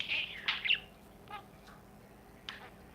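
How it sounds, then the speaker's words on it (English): A pet budgie chirps and squawks in short bright bursts, several quick calls up front followed by scattered softer chatter, close and fairly quiet against faint room noise. "And that is the Budgie talking."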